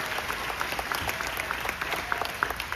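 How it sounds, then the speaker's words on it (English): An audience at a mountain fair celebration gives a round of applause, a steady patter of many hands clapping at moderate volume in a room, with a faint voice underneath. "give Wyatt a big round of applause"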